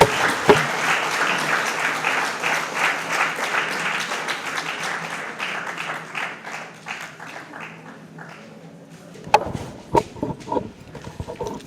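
An audience at a book launch applauds in a full round of clapping that thins out and fades to a few scattered claps, then a voice begins speaking near the end.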